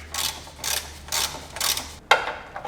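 Ratchet clicking in four short bursts as power steering pressure line fittings on a Grand Caravan are snugged up, followed by a sharper metallic clink, close and fairly quiet with no talk.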